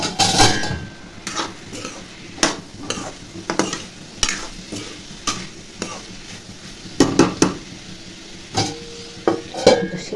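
Beans, peas, potato, carrot and capsicum being fried in a pan, with a continuous sizzle under repeated scraping and clinking strokes of a metal spatula against the pan.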